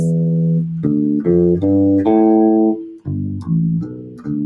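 The first notes of a minor pentatonic scale, sustained and melodic, played one after another at a moderate pace, loud and clear with no talking.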